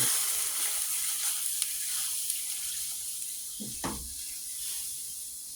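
Darkened roux with milk sizzles and bubbles in a pan while being stirred continuously for gravy, a soft steady hiss with faint scraping and a couple of brief clunks near the end.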